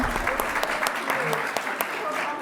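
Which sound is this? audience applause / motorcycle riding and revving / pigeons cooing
audience applause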